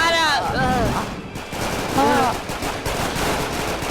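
Rapid bursts of gunfire from an action-movie fight between a criminal gang and a bulletproof foe crackle over shouting voices, with dense repeated shots and swooping effects.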